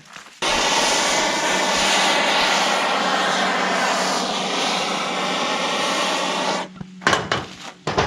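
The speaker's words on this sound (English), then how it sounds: "I got the torch" A propane torch heating the gasket area of a 1969 Buick engine, giving a loud, steady, close roaring hiss that runs unbroken for several seconds, then cuts off into a few clunks and handling noises.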